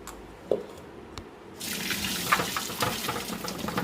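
Water runs steadily from a tap with splashing as vegetables are rinsed beneath it, preceded by a few quiet clicks and knocks.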